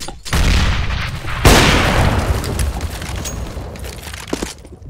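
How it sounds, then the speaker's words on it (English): A flashbang grenade detonates in a CS:GO match, a sharp loud bang followed by a second blast and a long, noisy rumbling decay that slowly fades. "Throwing flashbang."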